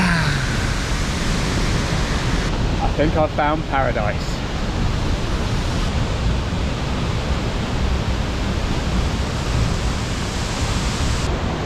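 A waterfall at Batad in the Philippines roars in a loud, steady rush of broadband noise throughout, and a person speaks briefly over it partway through.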